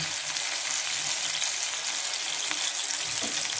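Boal fish pieces frying in hot oil, a steady, loud hissing sizzle that stays even throughout, close by, with no voices.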